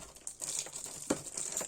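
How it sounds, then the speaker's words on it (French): Crinkly foil wrapper of a Kaldheim Magic card booster pack being torn and crumpled open, a brief close burst of crackling with a sharp rip midway, no speech. "aujourd'hui on va ouvrir les boosters d'extension Kadelheim"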